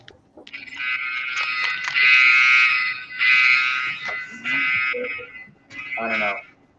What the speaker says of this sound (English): Might be just an alarm going off.